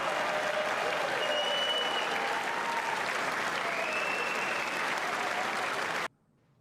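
Sustained applause from the State of the Union audience: a broad, steady roar of many people clapping at an even level for about six seconds, with faint tones drifting through, then cutting off abruptly into silence.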